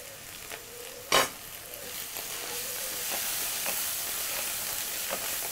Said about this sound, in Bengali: আমাদের মশলাটা প্রায় কষিয়ে নেওয়া হয়ে গেছে